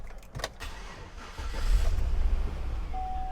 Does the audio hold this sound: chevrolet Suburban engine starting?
yes